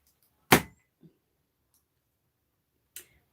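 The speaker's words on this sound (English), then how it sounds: "Why'd you just knock my mouse out?" A computer mouse gets knocked over with one sharp, loud clack, then a soft small tap a moment later and another faint click near the end, with silence in between.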